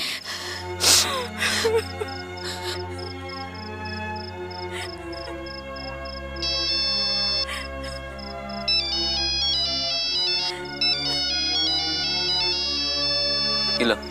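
A melodic mobile phone ringtone for a call from home repeats over a low, steady music drone in a Bhojpuri family drama scene, with soft breaths and gasps around it.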